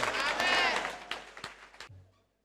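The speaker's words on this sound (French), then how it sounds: "on acclame très fort" Congregation in a church cheering and clapping during a thanksgiving service, a dense burst of applause and shouting that thins into scattered claps and fades out.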